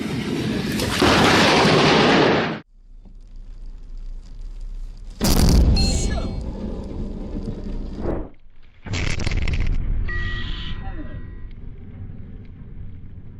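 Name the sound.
thunder from a lightning strike during a thunderstorm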